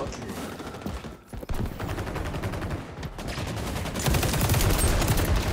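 Sustained automatic gunfire from the video game XDefiant, rapid rattling bursts running nearly unbroken with a brief gap, growing louder and denser toward the end.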